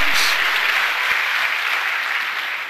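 A congregation at a Spanish-language church service applauds, a broad, sustained wash of many clapping hands at close range that slowly fades toward the end.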